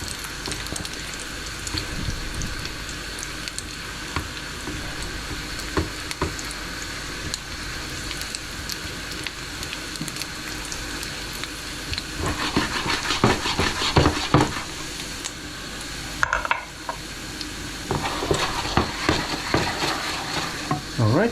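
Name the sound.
fresh garlic frying in a pan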